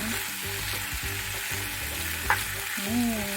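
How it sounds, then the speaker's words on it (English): Prawns fry in a pan with a constant close sizzle and crackle, a soft hum running underneath and one brief sharp clink of a utensil partway through. "After that we also add the prawn"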